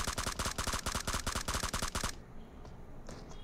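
Rapid automatic gunfire in the BGMI mobile battle royale game, about a dozen sharp evenly spaced shots in a fast burst, loud and close, then cutting off into quiet game ambience.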